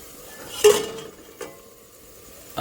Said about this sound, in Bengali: এবার একটু সরাই ঢাকনাটা